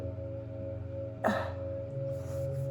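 A single throat clear, a brief broadband burst over a steady low hum, moderately close and alone with no talk.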